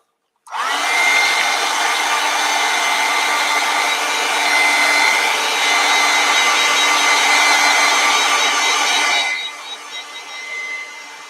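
A hair dryer blows steadily on an acrylic painting of a finch and a wooden fence, switching on sharply and running loud and close for about nine seconds before cutting down to a lower, unsteady whir.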